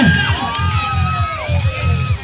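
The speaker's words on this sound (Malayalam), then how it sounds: "കൈയടി പോകട്ടെ ആർപ്പുവിളികൾ പോകട്ടെ" At a semifinal match featuring Kosambi Bethurpara, a close, loud crowd cheers and shouts with high excited voices and whooping calls, in rhythmic rising and falling surges.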